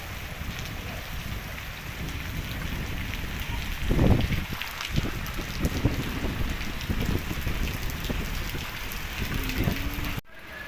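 Steady heavy rain in Pandharpur hisses on surfaces throughout, with a low thunder rumble midway and occasional louder splashes, continuing without voices.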